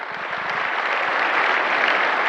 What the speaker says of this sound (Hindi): एक बार जबरदस्त तालियां हो जाए उनके लिए।